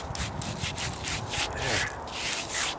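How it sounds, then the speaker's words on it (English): Excess sand is wiped off a fresh stucco patch. Several quick, close, gritty rubbing strokes sweep back and forth in an uneven rhythm. "Now I can wipe off the excess sand."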